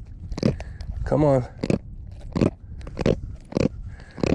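A hooked redfish or jack crevalle crunching its jaws in short bursts while being unhooked on a boat, wet snapping clicks in uneven rhythm close up, with someone talking briefly and a squeaky creak in between.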